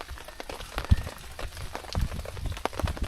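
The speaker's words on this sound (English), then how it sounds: "Probably raining all the time." Rain falls through mountain jungle at about 5,000 feet, a steady broadband patter with scattered louder drops and splashes close by, continuous and fairly soft with no talk.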